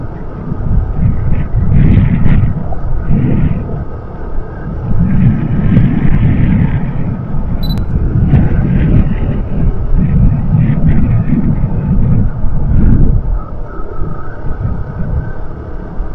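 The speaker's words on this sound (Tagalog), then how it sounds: "Lakas ng hangin, parang tinatangay ako ng hangin guys." Heavy wind buffets the microphone in loud, rumbling gusts, with the drone of a moving vehicle underneath and brief faint sounds over it.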